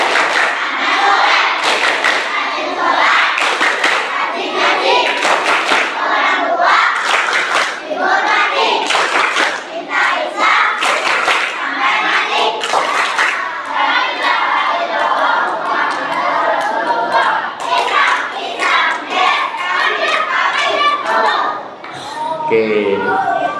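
A crowd of children at a mosque Quran class perform the rhythmic 'tepuk anak soleh' clapping chant, loud patterned group claps mixed with shouted chanting voices, continuous and close for over twenty seconds.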